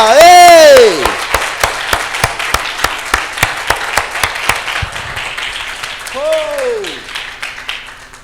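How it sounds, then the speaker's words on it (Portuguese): Church congregation claps in a loud, rhythmic, evenly paced beat during worship, with a preacher's amplified shouts rising over the clapping at the start and again near the end. "Então aplaude ele, já que está livre."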